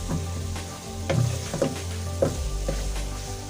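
Carrot halwa with raisins being stirred in a pan, a low frying hiss under a string of spoon scrapes and knocks against the metal, close and uneven in rhythm.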